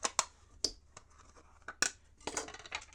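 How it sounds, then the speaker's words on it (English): Rifle brass being primed with an RCBS hand priming tool for .223 Remington Starline cases: a few sharp close clicks and snaps, spaced irregularly, followed by a cluster of quicker handling clicks near the end. "We use the trusty RCBS hand priming tool."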